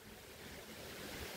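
Strong wind blows at Digha sea beach, a dense roar mixed with surf that fills the whole moment, faint and steady with no voices.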